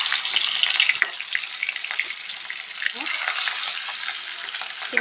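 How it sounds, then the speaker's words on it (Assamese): Fish rubbed with salt and turmeric fries in hot oil in a wok, a loud, close, continuous crackling sizzle with popping spatters and occasional stirring clatter throughout. "এতিয়া মই মাছখিনি ফ্ৰাই কৰি লওঁ।"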